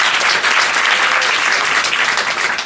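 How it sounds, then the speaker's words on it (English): Sustained, dense applause from a sizable crowd, steady and loud throughout with no voices standing out. "I also give it a round of applause."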